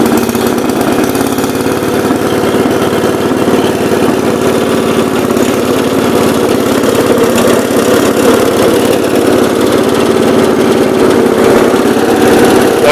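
A 1970 408 mower engine running on non-ethanol fuel: a loud, steady, close motor drone with a rough, pulsing chug, unbroken for the whole stretch and with no talk.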